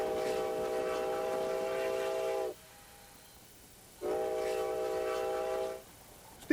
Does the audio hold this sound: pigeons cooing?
no